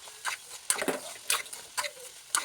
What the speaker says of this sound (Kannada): ಚೆನ್ನಾಗಿ ಕೈ ಆಡಿಸೋಣ.